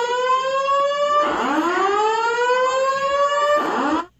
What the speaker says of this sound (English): It sounds like a nuclear alarm